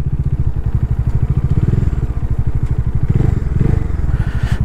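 A motorcycle on a long highway run between Jharkhand and Mumbai thrums with a fast, even engine pulse and wind rush, loud and close throughout.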